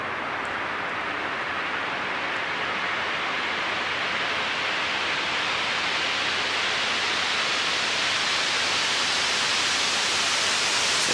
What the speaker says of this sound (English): A big epic white noise sweep,